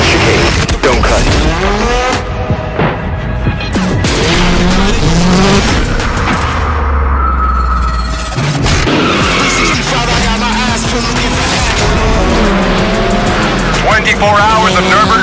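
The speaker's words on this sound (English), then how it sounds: "Watch the Hyundai N attacking the class leader, and into the main straight they go." Hyundai N race car battling for the class lead at the Nürburgring 24 Hours, loud engine roar with tire squeal and skidding, a rapid pass-by and shifting revs, voices heard over the racing noise.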